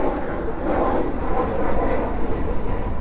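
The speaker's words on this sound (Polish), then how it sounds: "możemy podziwiać samoloty, które właśnie będą lądować na edynburskim lotnisku." A plane coming in to land at Edinburgh airport, heard from an outdoor walking spot nearby as a loud, steady engine roar that fills the whole stretch, with wind in the background.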